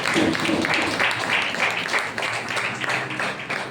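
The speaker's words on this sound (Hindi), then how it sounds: "तारीफ करेंगे तालियों के साथ पवित्र आत्मा की।" A church congregation claps in praise of the Holy Spirit during a Sunday sermon, a fairly dense, continuous round of many hands with some voices mixed in.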